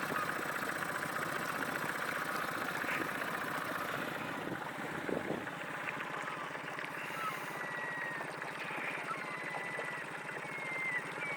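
A four-stroke outboard motor drives an inflatable boat through a sea channel, giving a steady moderate engine drone with a low throb under wind and water noise.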